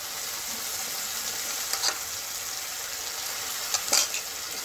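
Mustard paste stirred into softened tomatoes frying in a pan for a Bengali tangra fish curry: a steady, close hiss of sizzling oil, with two brief scraping stirs of a spoon.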